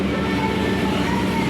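Steady rumbling railway noise at Lempuyangan station in Yogyakarta, a continuous loud wash of train and platform sound with no distinct events, filling the whole moment.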